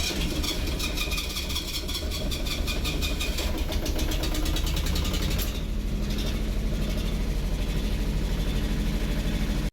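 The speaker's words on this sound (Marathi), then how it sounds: "फायनली आपलं DG स्टार्ट करून बघितला" A bakery's diesel generator, just back from its first service, cranks and settles into a steady running drone. Its loud, close mechanical hum continues throughout with a rhythmic engine pulse and no voices.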